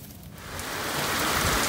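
Steady rain pours down outdoors, a dense hiss of drops on surfaces that swells slightly louder over a couple of seconds, with no voices.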